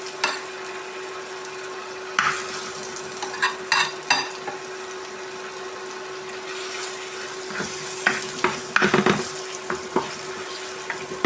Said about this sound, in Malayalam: ഇനി ബാലൻസ് മസാല നമുക്ക് ഫ്രൈ ചേർക്കാം